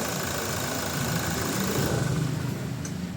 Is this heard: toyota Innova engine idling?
yes